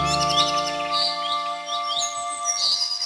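Cartoon forest birds gathering together, a steady chorus of bright, overlapping chirps and tweets with rising whistled calls, close and fairly loud, no talking.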